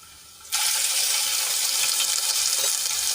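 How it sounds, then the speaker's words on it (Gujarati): Ginger, garlic and chili paste drops into hot oil with bay leaf, star anise, cinnamon and dried red chilies, bursting into a loud, steady sizzle after a quiet start. "અને પેસ્ટને આપણે થોડી તેલમાં સાંતળી લઈશું"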